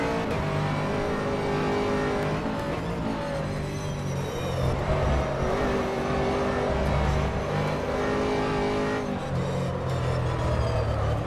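A race car engine in a racing video game screams at high revs with shifting tones and brief dips as the car brakes into and powers out of corners, loud and continuous with no talk.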